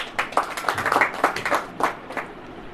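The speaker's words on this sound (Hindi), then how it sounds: "ताली बजाइए," Congregation clapping during a church sermon, with a steady run of hand claps in loose rhythmic bursts filling the hall, fairly close and lively, and little else heard.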